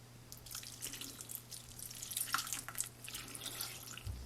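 Water poured into a cooking pot, a faint patter of trickles and drips over a low steady hum, lasting a few seconds without voices.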